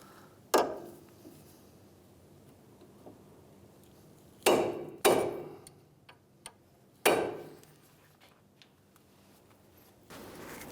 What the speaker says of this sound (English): what we're going to do now is stake our axle nut into our axle